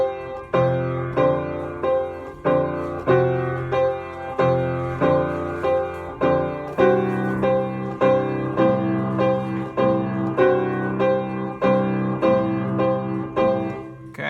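Blues piano exercise at measure 13: a steady rhythmic pattern of repeated chords and bass notes, played evenly and fairly loud, alone with no voices.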